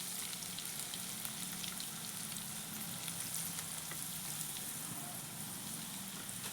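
Lentils hit a hot frying pan in a chicken curry preparation and sizzle steadily, a dense, even crackle that holds at a constant level throughout with no talking.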